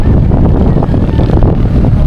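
Strong, cold wind roars over the microphone during a long motorcycle ride from Manila to Real, Quezon, a dense, loud, continuous rush with no clear gaps.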